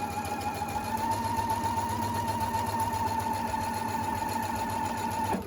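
A sewing machine stitches a simple fabric face mask, its motor running in a fast, even, continuous rattle throughout, close and steady with no talking.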